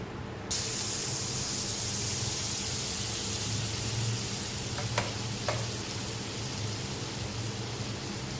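Butter sizzles loudly and steadily in a hot kadai (wok) for white sauce pasta, a dense continuous frying hiss that starts abruptly and holds, with a couple of faint clicks from stirring partway through.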